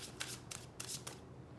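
Oracle cards are shuffled by hand in four quick riffling bursts, close and soft, with brief pauses between them.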